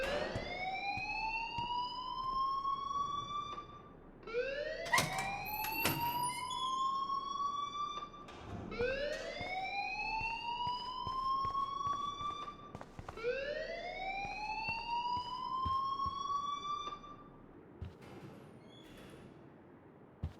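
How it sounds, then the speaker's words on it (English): Alarm in the game Life is Strange, a loud wailing electronic tone rising in repeated sweeps about every four seconds, continuing steadily throughout with no talk. "please turn off that alarm since that's your job"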